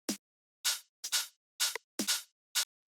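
Tech house percussion loop of crisp snare, rim shot and open hi-hat hits, six sharp dry strikes in a sparse, syncopated pattern, close and clear with no talking.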